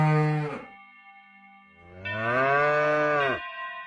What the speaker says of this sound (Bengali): এ কি, গরুটা এমন করে ডাকছে কেন?